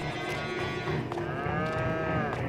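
Small dairy cows moo repeatedly while being loaded onto a multi-trailer livestock hauler pulled by a tractor unit, with several overlapping calls close by and steady farm noise underneath.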